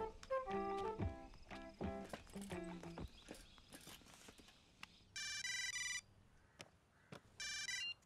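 A phone ringtone rings in two electronic bursts, loud and close, following earlier clattering thumps and footsteps.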